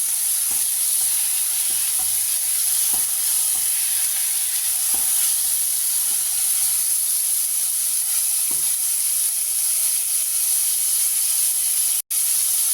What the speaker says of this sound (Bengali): অল্প নুন আর হলুদ দিয়ে আমগুলো হালকা করে ভেজে নিচ্ছি